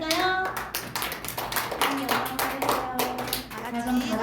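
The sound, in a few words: children clapping in church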